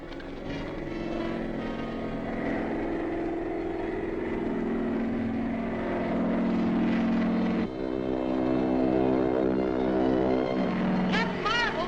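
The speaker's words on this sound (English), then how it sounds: "I can hear the plane coming." A propeller plane approaching in an old Captain Marvel radio serial, a steady droning engine hum that holds and swells across the whole stretch, with a brief break near the end.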